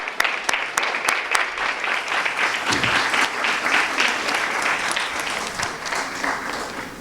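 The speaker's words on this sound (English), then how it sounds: "So another round of applause, please." Audience applause at a Veterans Day awards ceremony, with many hands clapping steadily and loudly throughout, a few sharp individual claps standing out near the start.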